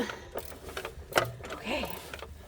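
A 13mm wrench ratchets a bolt on a 2008 Ford F-350 during belt tensioner work, giving faint, uneven clicking strokes mixed with small metallic knocks under quiet background noise.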